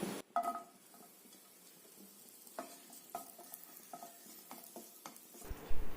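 Small onions frying in coconut oil in a pan for a chicken curry, with a soft, steady sizzle and a few quiet clinks and scrapes of a spoon stirring.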